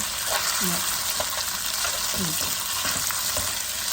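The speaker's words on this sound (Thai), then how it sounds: "คือจะเอาลงไปคั่วกับในกระทะ" Wide rice noodles for pad see ew being stir-fried in a wok: a constant loud sizzle with soft scraping strokes of the spatula recurring every second or so.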